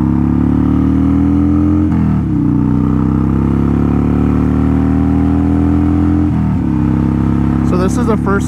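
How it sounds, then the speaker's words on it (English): A Sportster motorcycle engine rumbles steadily at close range, with brief shifts around two and six seconds and a rev near the end. "So this is the first time that I've ridden Red Lady's Sportster, the Sport Lady"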